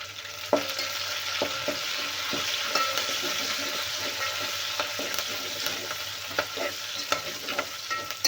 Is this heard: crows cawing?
no